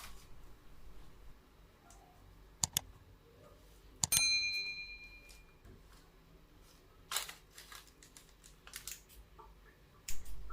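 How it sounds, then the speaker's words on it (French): Kitchen scissors snipping through pizza dough around a cream-cheese-filled crust: a few sharp, sparse clicks and snips spaced several seconds apart in an otherwise quiet room. "Je découpe ensuite de cette manière la pâte avec des ciseaux"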